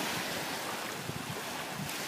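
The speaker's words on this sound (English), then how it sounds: "So, this is the ocean." Ocean surf and wind along the shore at St. Stephen, New Brunswick, form a continuous broadband wash with low rumbling wind buffeting the microphone, steady and fairly loud throughout, with no talk.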